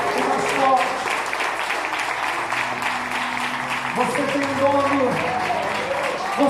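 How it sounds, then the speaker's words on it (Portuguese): A church congregation at a family worship service claps together, steady applause running throughout with voices and sustained tones mixed in beneath it. "Dê uma salva de palmas mais forte que você puder, e mais forte"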